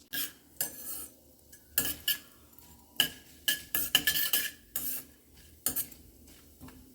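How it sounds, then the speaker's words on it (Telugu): Vegetables for fried rice tip into a pan with cumin and cashews and get stirred, producing a run of sharp metal spoon clacks and scrapes in irregular bursts, separated by quiet gaps and with no talking. "ఇవి రెండు వేగాక వెజిటబుల్స్ వేసేసుకోవాలి"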